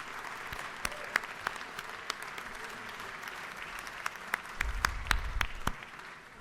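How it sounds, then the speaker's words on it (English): Applause in the Georgia House chamber during a 2023 legislative session, made up of scattered, fairly distant clapping with sharper individual claps standing out and a low rumble building near the end. "Please take a look at them and give them your applause."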